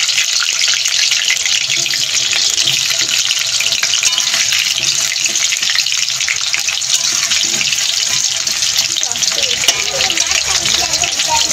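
Potatoes fry in a pan with chicken curry, giving a steady, loud, close sizzle that hisses without pause throughout.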